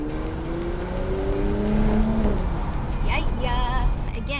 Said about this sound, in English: that bi-turbo, nice little whistle sound